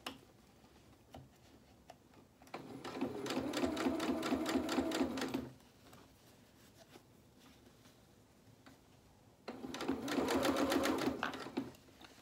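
A sewing machine stitches along a shirt sleeve in two runs of about three seconds each, a rapid mechanical clatter separated by a quiet pause of several seconds.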